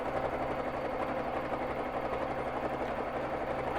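A Babylock Jazz II sewing machine stitches free motion quilting with Aurifil thread, giving a steady, continuous mechanical whir and rapid needle chatter close by, unbroken throughout with no voices.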